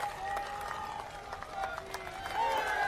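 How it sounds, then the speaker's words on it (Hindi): Crowd applause at an outdoor by-election rally in Chaurasi, Rajasthan, forms a steady, dense wash of clapping and crowd noise that swells toward the end, with an amplified voice faintly heard over it. "आपका काम करने के बाद खड़े होकर के पूरी तरह अपने स्थान पर कारीलाल जी के ताली बजाइए"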